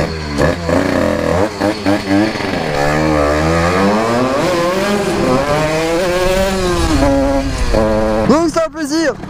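A motorcycle engine cranks to life and revs in rising and falling waves, loud and close, with someone talking over it throughout in a home mechanic setting on a grey day.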